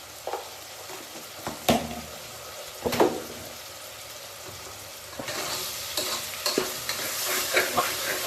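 Spinach and chicken mixture with salt and turmeric being stirred in a hot pan, a spoon scraping in several distinct strokes over a rising sizzle, close and moderately quiet.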